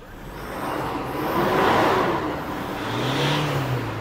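A Mitsubishi Montero engine, fitted with a Montero MAP sensor during a test, revs hard toward the redline, swelling up, easing off and rising again in a loud, close, steady roar.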